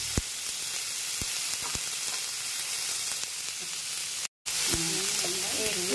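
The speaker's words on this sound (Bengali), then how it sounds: "লাউয়ের খোসা ভাজা করতে হবে" Bottle gourd peel fries in a pan with a steady sizzle and a few sharp clicks, a brief dropout near the end, then faint voice-like tones over the sizzle.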